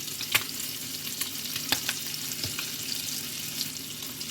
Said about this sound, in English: So while my chicken is searing a little bit